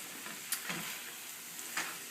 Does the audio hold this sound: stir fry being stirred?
yes